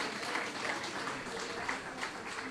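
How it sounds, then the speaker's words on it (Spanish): Church congregation applauding during a Spanish-language worship service, a steady dense wash of many hands clapping together that holds evenly throughout, with no clear voices on top. "Dele un aplauso al Señor."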